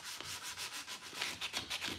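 Steady rhythmic rubbing of sandpaper over a chippy, distressed painted wooden clock, close and quiet, with repeated back-and-forth strokes.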